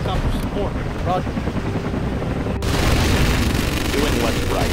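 A military helicopter thumps steadily amid battlefield noise in the Rise of the Reds strategy game, a dense rumbling rotor beat with bursts of gunfire and explosions, overlaid by short unit voice lines.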